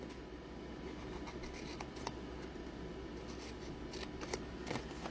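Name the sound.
scissors cutting and trimming scored paper board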